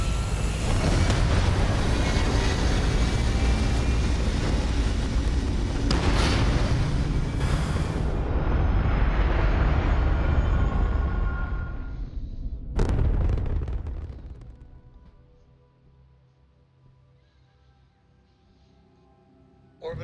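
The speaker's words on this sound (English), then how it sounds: "All thrusters firing." Spaceship thrusters firing for takeoff in the video game Starfield: a loud, sustained roaring rumble with surging blasts, then a sharp boom, after which the roar fades away to near silence.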